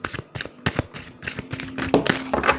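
Tarot cards are shuffled by hand close up, a quick series of crisp riffling flicks and soft taps.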